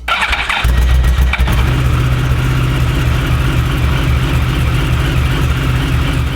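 A Yamaha R1 sport motorcycle engine cranks and fires up, then settles into a loud, rough, steady idle, close by.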